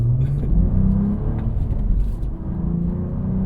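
A Cadillac CT4-V Blackwing accelerates hard onto a highway, its engine revving in a loud, steady, close rising roar with no talking over it.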